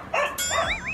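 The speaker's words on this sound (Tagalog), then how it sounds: "Maingay ng aso." Dogs bark and yip close by in a quick burst of high, wavering barks lasting about a second, with no talking over them.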